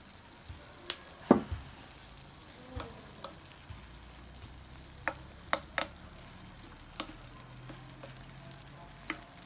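Lamb tajine with garlic powder cooking in a pan, a low sizzle under sparse, sharp clicks and scrapes of stirring, a dozen or so distinct knocks spread out, close and fairly quiet.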